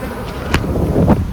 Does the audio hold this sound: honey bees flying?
yes